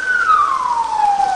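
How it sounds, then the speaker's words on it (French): Fire engine sirens wail loudly and close on the way back to a building fire, one long tone sliding slowly downward, with faint road noise beneath and no voices. "Les sapeurs-pompiers reviennent, toutes sirènes ronflantes sur le lieu de l'incendie"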